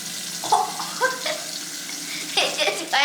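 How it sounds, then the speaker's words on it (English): Tap water runs and splashes at a sink as hands are washed, close by, with uneven bursts of splashing over the flow and some vocal sounds mixed in. "I think I'm gonna wash my hands first"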